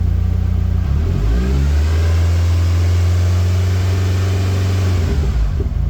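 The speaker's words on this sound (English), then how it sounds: "There's a fairly serious whine coming from the box." A car engine revs up in a garage and holds a raised pitch, a steady mechanical whine from the gearbox riding over the drone before it falls back to idle.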